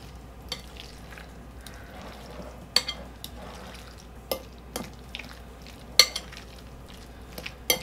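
Chopped Roma tomatoes being stirred into homemade guacamole, with soft scraping and several sharp utensil clicks against the bowl scattered across the stretch, close and fairly quiet.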